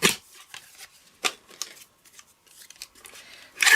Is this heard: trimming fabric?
yes